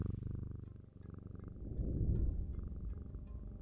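A cat purrs in the video game Strange Antiquities, a steady low rumbling purr that swells louder in the middle and runs continuously over a faint background music bed.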